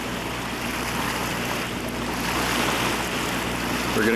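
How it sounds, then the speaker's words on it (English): Caribbean Sea waves wash in a steady, broad rush of surf with wind noise across the microphone, continuous and fairly loud throughout. "And there's the Caribbean Sea"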